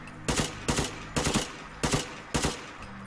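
An AK 400 automatic rifle in Fallout 4 fires five short, sharp bursts of two or three rounds each at roughly even intervals, loud and close, with brief quiet gaps between.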